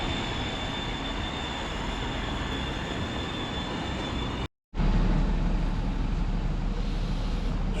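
A steady, loud rumble of a tram rolling past on the track in a town square, with continuous wheel and rail noise, broken by one brief cut, with no talking.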